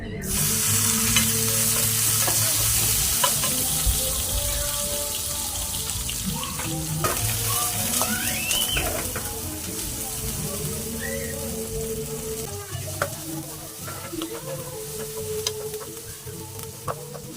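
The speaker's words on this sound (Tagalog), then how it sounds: "lutuin na natin yung salmon. Gagamit tayo ng olive oil." Salmon frying in olive oil in a pan, a continuous loud sizzle with scraping and stirring clatter close up throughout.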